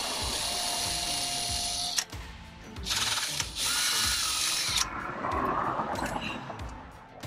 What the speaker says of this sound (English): So we are gonna drill and tap it, put some plugs in there